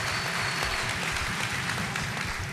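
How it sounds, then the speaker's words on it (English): Applause at a town meeting in Wilmington, a steady wash of clapping from a crowd indoors, moderately loud and continuous for the whole span. "How about a round of applause?"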